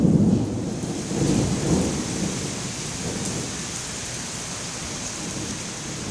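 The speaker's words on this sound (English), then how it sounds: "Did you hear the thunder?" A low rumble of thunder rolls beneath heavy, steady rain, the rumble swelling early then fading into the constant downpour.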